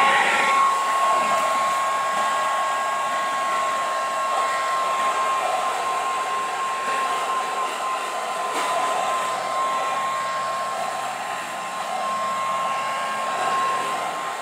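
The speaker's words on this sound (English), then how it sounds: "Next I'm going to take my blow dryer here" A blow dryer runs steadily throughout with a constant high whine over a whooshing airflow, close and loud, with no talking.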